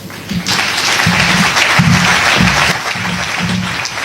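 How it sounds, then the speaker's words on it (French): Courtroom-style audience applauding lawyer Ben Kalamo, a full, continuous burst of many hands clapping, loud and close, with low murmuring voices beneath. "Des applaudissements pour Ben Calamo."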